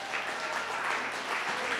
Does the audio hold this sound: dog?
no